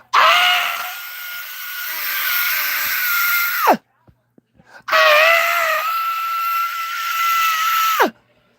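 A person screams as loud as possible in two long, sustained, strained wails separated by a short silence, each ending in a sharp downward break.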